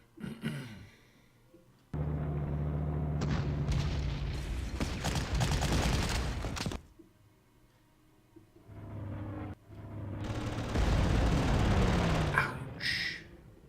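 Attack gunfire and explosions from the Panzer Corps wargame come in two loud bursts of booming, rattling fire with a short quiet gap between them.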